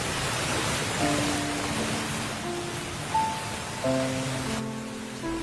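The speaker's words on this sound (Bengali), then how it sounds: "বাইরে পড়ছে ঝুম বৃষ্টি।" Heavy rain pours down steadily in a cartoon scene, a dense, even wash of noise that runs throughout, with soft tonal music notes drifting faintly underneath.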